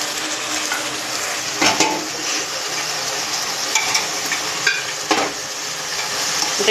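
Pre-boiled mutton frying with spices in a pan, loud continuous sizzle with stirring scrapes and occasional clanks of the spoon against the pan, no voices.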